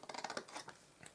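Scissors snipping paper while cutting and notching a gift bag, a quick run of small, close snips that stop after about half a second, faint and alone.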